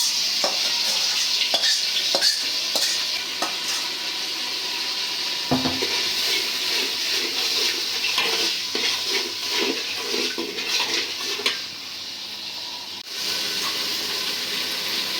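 Spiced masala from hilsa fish sizzles and fries steadily in a pot for hilsa pulao, with occasional scrapes and knocks of stirring over a continuous loud crackle.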